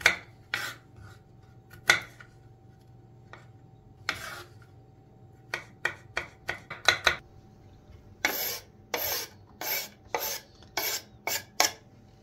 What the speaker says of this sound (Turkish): Sarımsaklarımızı ince ince doğrayalım.